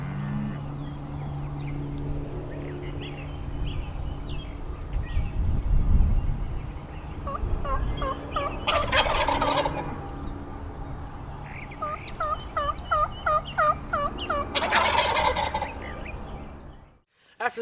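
Wild turkeys gobble repeatedly outdoors, rattling calls answering in bursts at moderate distance over steady low background rumble, with no talking.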